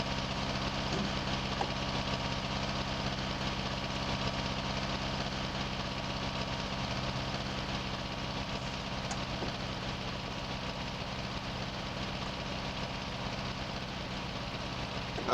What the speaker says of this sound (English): Nice tractor to have on the sprayer at the moment.